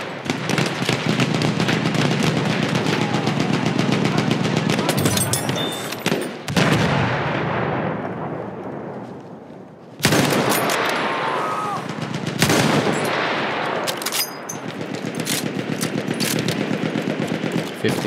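Heavy gunfire from a Battlefield 1 Apocalypse DLC match, loud and sustained with rapid bursts and sharp single shots, brief lulls around the middle before the firing resumes, and battlefield noise throughout.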